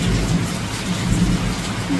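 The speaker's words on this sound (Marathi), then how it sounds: "विजांचा कडकडाट एवढा व्हायला लागलाय." Heavy rain during a thunderstorm with hail, a steady loud wash of rainfall under low rumbling thunder, with no voices.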